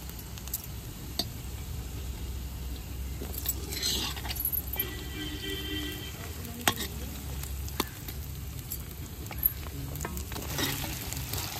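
Potatoes go into kadhi frying in a pan, giving a faint continuous sizzle with scattered clinks and stirring scrapes, close and quiet, no talk.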